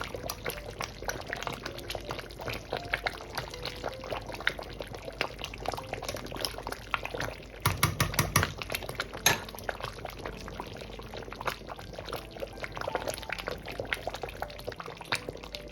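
Kondrè meat stew boiling hard in a pot: a constant bubbling, gurgling churn heard close and alone, growing busier for a moment around the middle.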